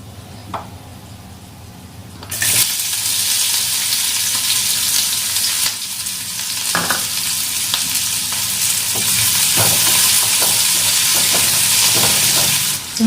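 Onions and cumin frying in a pan, with a loud, steady sizzle bursting in after a quieter start and continuing with occasional stirring clatters, close and without talk.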